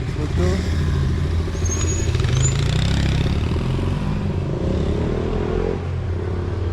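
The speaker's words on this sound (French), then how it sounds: "Bien sûr, petite moto." A small motorcycle passes near a train station in Hakone, Japan, its engine buzzing steadily and fairly loud against outdoor street noise.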